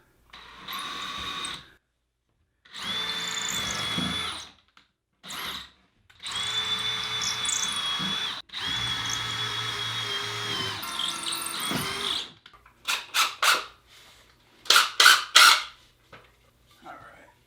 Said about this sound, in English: I'm gonna drill into this one so it's sticking out.